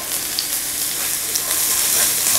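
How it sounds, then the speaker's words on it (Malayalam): Chopped garlic and ginger sizzle in hot oil in a pan for a Kerala-style kadala (chickpea) curry, making a steady, loud, close frying hiss with small pops and no voices. "ഇനി ഇതിലേക്ക് നമുക്ക് ഇഞ്ചിയും വെളുത്തുള്ളിയും ഇപ്പം ചേർത്ത് കൊടുക്കണം"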